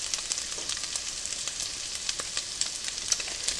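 Butter, half a stick, melting and sizzling in a pan of browned sausage for a sausage gravy breakfast casserole; a steady, moderately loud frying hiss with scattered small pops and crackles throughout.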